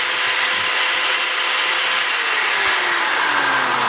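A DeWalt DWD024 half-inch hammer drill with a faulty, sparking motor runs with a steady high-pitched whir, loud and close, with no talking over it.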